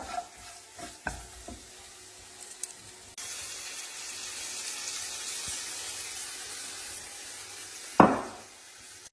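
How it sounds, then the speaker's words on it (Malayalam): A spoon stirs curd into moru curry in a pan over low heat, with soft scraping and a faint background sizzle, a few clinks near the start and a sharp clatter near the end. "ഇത് നന്നായിട്ടൊന്ന് ഇളക്കി യോജിപ്പിക്കണേ"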